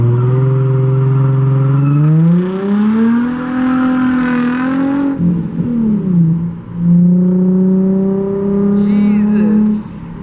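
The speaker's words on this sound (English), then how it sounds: "Jesus, this car is really loud." A loud car engine revving close by, its pitch sliding up and falling back in drawn-out sweeps before settling into a steady high drone.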